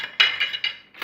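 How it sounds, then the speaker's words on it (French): Metal cutlery, forks and knives, set down on a table in a home kitchen: four bright clinks and clatters in quick succession, close and clear, with no talking. "Ensuite on met les couverts."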